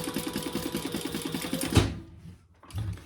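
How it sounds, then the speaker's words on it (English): A sewing machine stitches fabric scraps together with a fast, even mechanical rattle for close to two seconds, stops with a clunk, then gives a brief low thump, with no talking. "So I'm going to sew them together."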